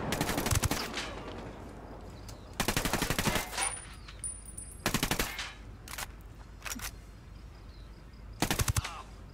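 Bursts of automatic gunfire in Ghost Recon Wildlands, several loud, rapid volleys aimed at the player, spaced a couple of seconds apart, with quieter single shots and battlefield noise in between.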